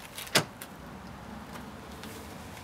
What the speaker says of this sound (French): J'ouvre la voiture